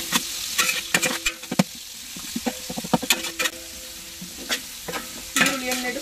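Onions frying in oil for a large batch of Mangalore-style chicken sukka, with a constant hiss of sizzling under frequent clattering scrapes and stirring knocks of a utensil against the pot, with no talking.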